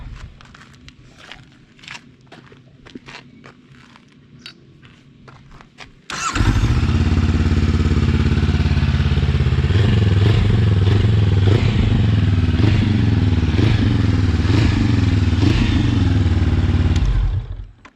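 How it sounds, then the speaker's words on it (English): A Honda CB500X motorcycle fitted with a Pipe Werx exhaust is heard first through faint clatter and footsteps, then the engine fires abruptly and holds a loud, deep, throbbing idle with occasional blips for the rest of the clip. "I'm going to give it a little bit of a start now so you can hear the superior of the Pipe Werx exhaust"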